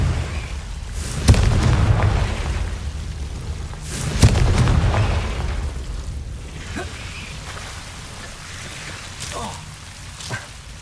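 Confringo fire-spell explosions in the video game Hogwarts Legacy: two deep, booming blasts a few seconds apart, each with a crackling tail, over a continuous rumbling background.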